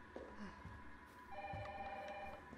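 A telephone rings in the Resident Evil 3 Remake game, bursts of electronic ringing over quiet ambient game sound, moderately faint.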